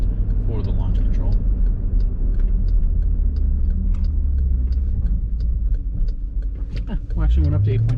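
A 2015 Jeep Grand Cherokee SRT makes a launch-control start from inside the cabin, a heavy steady engine rumble building under acceleration with a shift near the end, while people talk over it.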